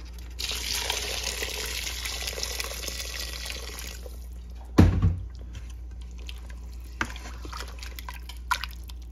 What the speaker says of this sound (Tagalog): Saka, ilagyan na natin itong hot water.